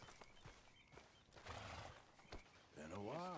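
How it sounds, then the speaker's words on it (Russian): A horse in the video game Red Dead Redemption 2 snorts and gives a rising whinny near the end, after soft hoof clops and rustling, all faint and under a man's speech. "Где моя лошадь-то?"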